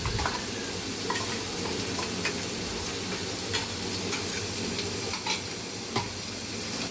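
Ginger-garlic paste sizzles steadily in hot masala in a pan, with a continuous close frying hiss broken by light scraping and stirring ticks throughout.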